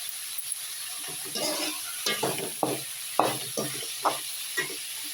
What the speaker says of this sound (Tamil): வெங்காயம் நல்லா வதங்கட்டும் கருவேப்பிலை போட்டுக்கணும்